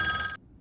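A telephone rings with a bright electronic tone in a single short burst that cuts off sharply, leaving quiet low background hum.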